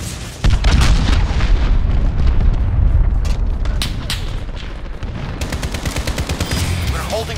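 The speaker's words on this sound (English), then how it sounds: "Enemy cruise missile, take cover." Loud booming blasts and rumbling explosion from an incoming cruise missile strike in Call of Duty: Modern Warfare Ground War, with dense gunfire crackling around it and a brief voice callout.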